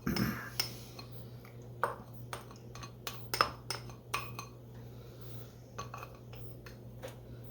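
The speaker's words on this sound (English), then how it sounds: "I'm just going to use a little spatula here to get the remainder." A small spatula scraping the last of the egg mixture from a bowl while making saltine cracker pudding, heard as a series of light, scattered clinks and taps against the bowl, faint and close.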